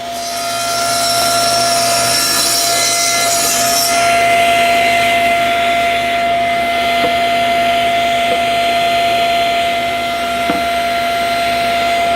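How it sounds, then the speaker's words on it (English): A powered saw cutting a trim board for a door, a loud steady whine of the running blade with a brighter rasp early as it bites the wood, then an even hum continuing alone. "So turn on the saw and make your cut."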